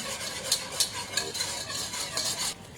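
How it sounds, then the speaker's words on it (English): Wire whisk scraping and clinking in a bowl as milk is gradually worked into self-raising flour, a steady close stir with several sharper rattling strokes. "I'm going to whisk in this milk, a wee bit at a time"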